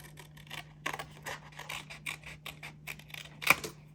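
Scissors snip through yellow paper, cutting out a half circle in a run of close, quiet, crisp cuts with light rustling at a steady pace.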